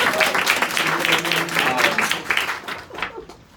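Guests at an appreciation gathering clap for the host in a steady burst of applause that fades toward the end, with some voices mixed in underneath.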